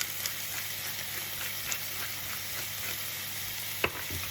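A steak sizzles quietly in a pan, a soft, even frying hiss up close with a few faint clicks and one sharp tap near the end.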